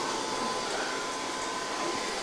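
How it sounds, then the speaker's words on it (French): A Dyson vacuum cleaner runs steadily during home cleaning, making a loud, continuous whine and rush of air that stays even throughout with no pauses and no voices. "C'est ce que vous entendez, c'est l'aspirateur."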